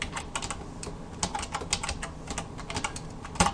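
Close computer-keyboard typing as a label is entered into HTML form code, with quick irregular bursts of key clicks and no talking.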